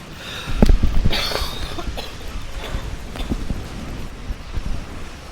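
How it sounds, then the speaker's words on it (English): A person coughs a few times, with sharp bursts near the start followed by fainter, scattered coughs against a noisy background. "Oh, I have a cough."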